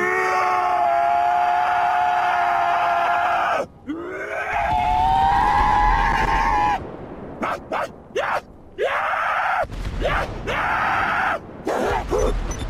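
A voice imitates an ambulance siren, wailing up and down in pitch, followed by shorter rising and falling vocal whoops with breaks between them.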